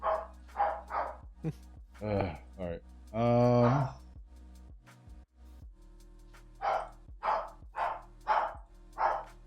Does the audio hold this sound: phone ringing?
no